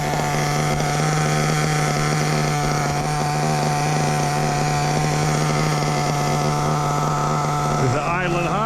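A Hobao Hyper VS2 nitro RC buggy engine idles high in a continuous loud buzzing drone, close by, with a brief rise in pitch near the end.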